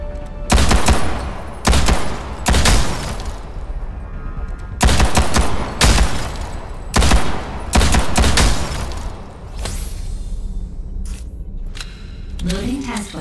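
Secondary-weapon gunfire on a training range in a Ghost in the Shell game, loud sharp bursts of rapid automatic shots separated by short pauses, with a voice speaking briefly near the end.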